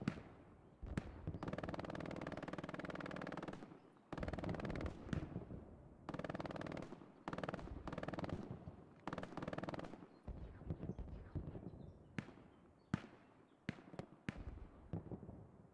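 Machine gun fire in an 18-versus-18 multiplayer video game match: repeated sustained bursts of rapid gunfire separated by short pauses, followed by sparser single shots toward the end, with no talk.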